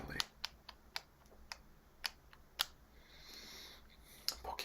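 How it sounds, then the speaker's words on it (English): Gentle tapping on a Nintendo DS, close and quiet, with a dozen light, crisp taps spaced irregularly against a soft background hiss. "Get some gentle taps there."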